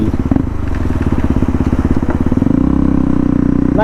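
A motorcycle engine held at high RPM during a group ride, a loud, close, rapid pulsing roar that drops into a deeper, steadier throb partway through, with no talking over it.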